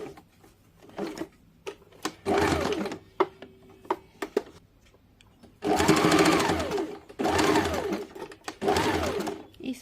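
A sewing machine stitches the armhole seam of a boat-shape princess-cut blouse. The close, steady whirring stitching comes in several separate runs, with short pauses and faint handling between them.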